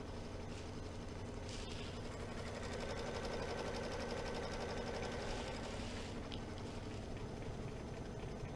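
A sewing machine runs steadily, stitching a fabric bookmark with ribbon and background fabric, a continuous close mechanical hum and whir with no talk.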